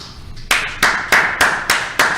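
A small group of hands claps six times in a slow, even rhythm, each clap loud, sharp and close, with no talk over it.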